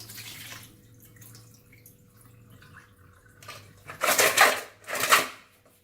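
Raw crabs are rinsed in water for a Padang-style sauce dish, with quiet handling and dripping, then two loud close bursts of splashing, sloshing water near the end.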